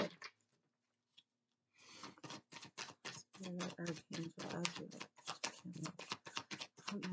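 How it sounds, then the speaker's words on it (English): Tarot cards being shuffled by hand, a rapid series of crisp riffling slaps and flicks close to the microphone, starting after a brief pause and continuing steadily, with some faint talk underneath. "if I can shuffle my cards"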